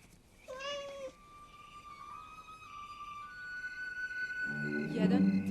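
A cat meows a few times, one short cry near the start followed by drawn-out mewing, moderately close, with soft background music and a brief voice at the end.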